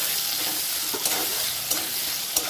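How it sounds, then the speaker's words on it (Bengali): Potatoes frying in hot oil with salt in a pan, a steady loud sizzle throughout with a few sharp stirring scrapes, close and without any talking. "পরে আলুগুলো দিয়ে দিচ্ছি তেলে।"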